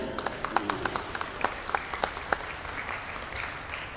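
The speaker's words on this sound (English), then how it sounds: "Let's give them a round of applause, please." Audience applause at the 2012 American Royal Grand Steer Drive cattle show: a moderate round of clapping with distinct sharp hand claps, tapering slightly toward the end.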